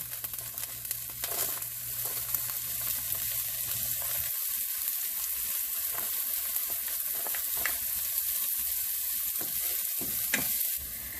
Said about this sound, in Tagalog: Igisa natin yung ating sibuyas at bawang.